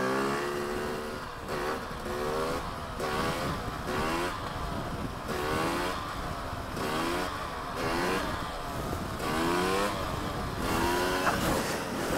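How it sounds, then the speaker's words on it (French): A KTM 300 TPI 2020 two-stroke enduro motorcycle revs hard through a wheelie, its engine rising and falling in rapid throttle bursts, loud and close, continuous for the whole stretch with no voices. "on va faire un petit dernier wheeling."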